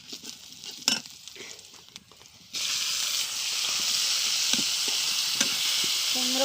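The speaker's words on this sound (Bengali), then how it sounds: "বাগারটা দিয়ে দেব।" Tempering for a pot of greens hits hot oil with a sudden loud, steady sizzle that keeps hissing close by after a few quieter scrapes and clinks, with no talk.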